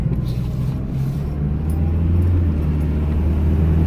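A rebuilt Dodge Neon engine, repaired with a new rod and piston after hydrolocking, runs steadily at idle with a deep, even low rumble that holds throughout at close range.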